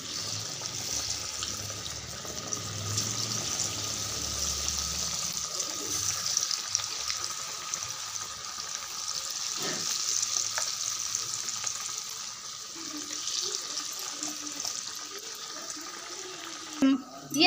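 Sago papad frying in hot oil, a steady broadband sizzle running throughout at moderate level, with faint scattered clinks and a brief knock near the end; no talking.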